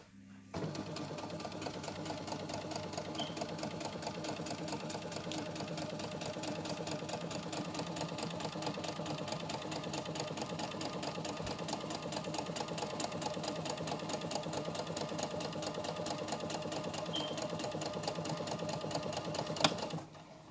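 A sewing machine stitches through a lace wig, a fast, even mechanical chatter running nearly nonstop and close, starting after a brief pause and ending with a small clunk, with no voices.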